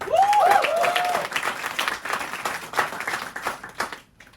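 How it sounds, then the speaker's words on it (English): A comedy club audience at a stand-up show bursts into applause, with a brief whoop at the start, then steady clapping that gradually thins and fades near the end. "A big applause please."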